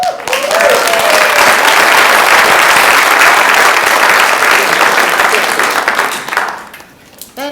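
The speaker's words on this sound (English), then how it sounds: "That is the earliest in a presidential lecture series that anybody has gotten applause." A presidential lecture audience breaks into loud, dense applause that holds strong for about six seconds and then tapers off quickly, with a voice beginning to speak as it fades.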